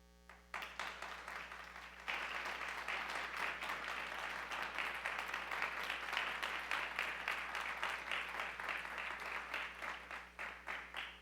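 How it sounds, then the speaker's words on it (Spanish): Church congregation applauding during a service in Bogotá, steady dense clapping that starts after a brief pause and continues throughout at moderate level. "Se escuchó más el aplauso desde Yopal que el de acá."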